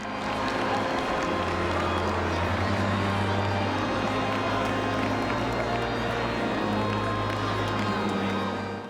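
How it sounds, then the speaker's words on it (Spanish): A large crowd ovation welcoming Pope Francis at a Mass in Bari, a continuous loud wash of cheering, clapping and shouting with a low steady hum underneath throughout. "Lo recibieron con esta gran ovación."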